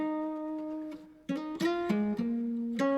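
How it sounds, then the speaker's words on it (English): A guitar loop sample from Splice plays alone as a few clear plucked notes. It starts with a held tone and then moves into quicker picked notes, close and clean. "guitar from Splice and it sounds like this"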